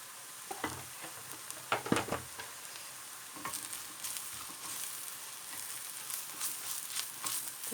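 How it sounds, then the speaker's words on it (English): Flour is stirred into onions frying in a soup pot for broccoli soup, with a spoon scraping and clattering in irregular bursts over a continuous quiet sizzle, close up and without talk. "get a tablespoon of flour, a heaped tablespoon of flour, and add that into it"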